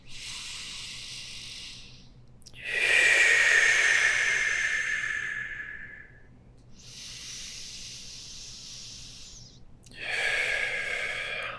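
Deep, slow breaths during a yoga hamstring and chest stretch, audible as several long airy exhales and inhales close to the microphone with quiet gaps between them.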